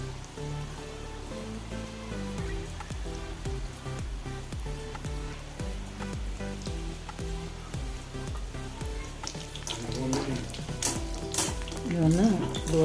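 Bajji fritters sizzle steadily in hot oil, a close, continuous crackling fry with occasional stirring and a few soft clinks near the end.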